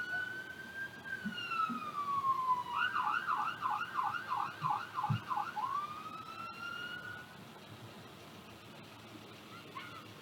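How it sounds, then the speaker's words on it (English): Fire engine sirens at a Christmas parade wail and then switch to a rapid yelp, moderately near, with low horn blasts and crowd and street noise, fading toward the end. "the fire engines that you see so far, all from Mid-County"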